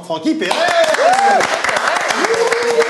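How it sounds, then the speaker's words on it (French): A studio audience at a French talk show in Tel Aviv's Galerie Eden claps steadily to welcome a guest, with a host talking and calling out the name over the dense applause. "on accueille, sous vos applaudissements,"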